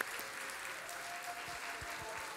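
A church congregation at a Sunday service claps together for a student award winner, a steady, moderately soft round of applause filling the room.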